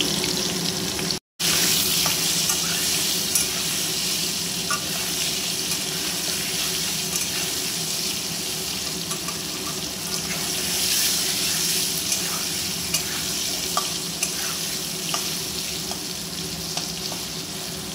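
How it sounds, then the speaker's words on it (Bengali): Potatoes fry on medium heat in a pan, a continuous close hiss and sizzle like running water, with faint scrapes of stirring scattered through and no talk over it. "এটা আমি মিডিয়াম আঁচে ভালো করে ভেজে নেব"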